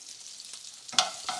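Onions, ginger and garlic sizzle faintly in a pan as a soft, steady hiss, with a brief clatter of a utensil near the end.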